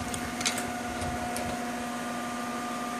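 A speed boring bar cutting an engine cylinder to just over four inches, giving a steady mechanical whine and hum with a constant tone and a few light ticks near the start.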